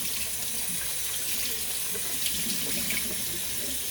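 Water runs steadily from a bathroom tap into a sink while a cloth is rinsed during a makeup-removal skincare routine, a soft continuous splashing hiss with no talking.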